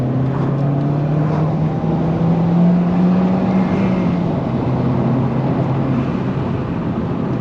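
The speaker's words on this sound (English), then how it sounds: "And a car obviously has to come on the one time." A car passing on a rural road, heard from inside a modified MG6 as a steady, loud engine and road drone with a low hum that swells slightly mid-way, no talking.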